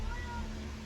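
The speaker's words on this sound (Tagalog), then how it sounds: "At kasama ko yung nag-iisang pusa." A single short meow from a cat indoors in a shop, brief and fairly quiet against a steady background hum.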